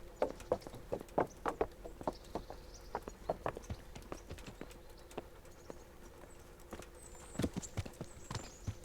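Horse hooves clip-clop in a steady trotting rhythm in the video game Kingdom Come: Deliverance, crisp and fairly quiet, with a faint low hum underneath.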